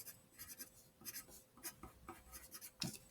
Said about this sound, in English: So once you've colored it, go ahead and write